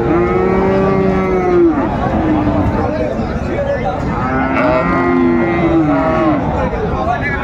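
Friesian and crossbred bull calves at a busy livestock market, with loud nearby moos and drawn-out bellows repeating over a crowd murmur, and some faint chatter in the background.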